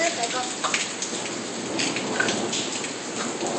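Heavy thunderstorm rain pours steadily and loudly, a dense close hiss of drops on surfaces with a few sharper spatters and no distinct thunder clap.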